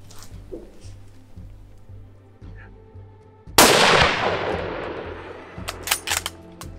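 A single loud, sharp rifle shot fired at a mouflon during a hunt in Spain, cracking suddenly over a quiet outdoor scene and decaying slowly, followed by faint rustling and clicks.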